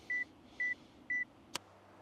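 A camera's 10-second self-timer counting down during an outdoor landscape shoot: three short, evenly spaced high beeps, then a single sharp shutter click, all fairly quiet against a soft background hiss.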